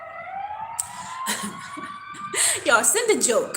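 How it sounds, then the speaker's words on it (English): An ambulance siren wails near a hospital emergency room, its steady rising tone audible beneath someone talking, growing louder toward the end. "Sorry if y'all hear the ambulance."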